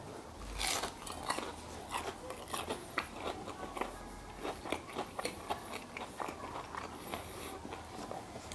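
Someone bites and chews cordon bleu chicken up close, a run of soft crunches and moist chewing sounds in an irregular rhythm, quiet and without talk.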